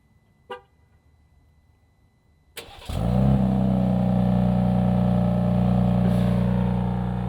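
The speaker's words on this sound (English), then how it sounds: "why don't I use the remote start so we can hear it start from the back?" A 2025 Ram 1500 RHO pickup with its twin-turbo inline-6 is remote started from behind: a brief click, then the starter catches and the engine flares loudly before settling into a steady, strong idle with no talking.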